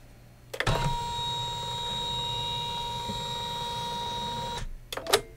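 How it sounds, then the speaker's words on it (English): Computerized embroidery machine stitching a trimming and placement line on a quilted pillow block, a steady mechanical whirring hum with a tonal whine, opening and closing with sharp clunks and short beeps. "we're going to stitch number 6 of the embroidery file and stitch that trimming and placement line for the"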